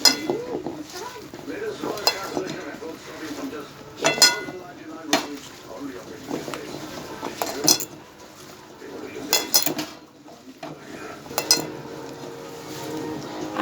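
Fish, eggplant and potato are mixed together in a wok, with a spoon scraping and clinking against the metal in irregular bursts, fairly quiet and close.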